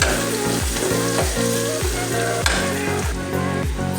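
Turmeric and coriander powder sauté in oil in a pan for Schezwan rice, giving a loud, constant sizzle with a quick, regular rhythm of spoon strokes scraping the pan.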